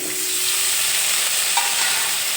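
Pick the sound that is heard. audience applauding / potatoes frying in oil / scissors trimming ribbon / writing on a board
potatoes frying in oil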